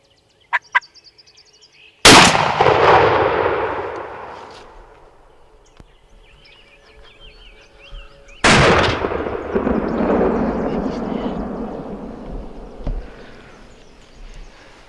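Two loud shotgun blasts during a Missouri spring turkey hunt aimed at a young jake, each a sharp crack with a long rolling echo fading across open ground, with faint turkey calls beforehand.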